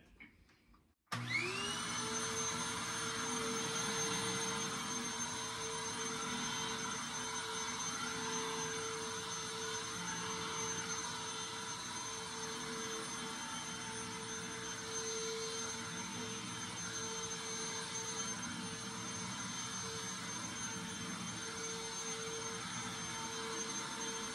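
A Royal Pro Series Wind Tunnel vacuum cleaner switches on abruptly and runs steadily for over twenty seconds, a loud close motor roar with a sustained high whine.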